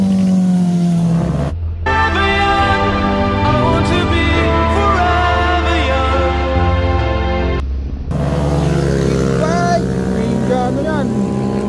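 A motorcycle on the Marilaque highway, its engine a loud, close, high-revving whine with shifting pitch that briefly drops out and then returns just as strong.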